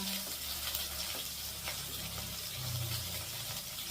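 Onion and curry leaves sautéing in a pan for sambar make a continuous broadband sizzle with scattered faint clicks and a low background hum, fairly quiet and without talk.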